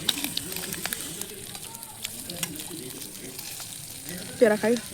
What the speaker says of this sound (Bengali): এই দেখো আমার চিংড়ি মাছ ভাজা হয়ে গেছে